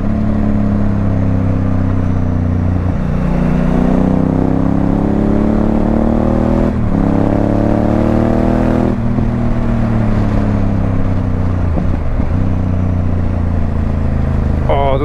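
A Honda Africa Twin motorcycle riding along a rural road, its engine a loud, steady drone with gear changes and rising revs close by, continuous throughout.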